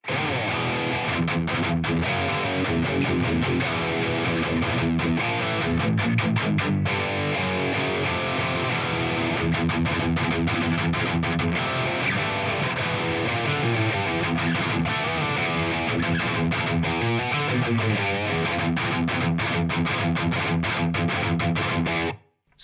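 A six-string neck of a doubleneck electric guitar chugs out tight, straight rhythm parts through a distorted amp emulation, loud and dense with steady palm-muted strums and brief stops, continuing for over twenty seconds before cutting off.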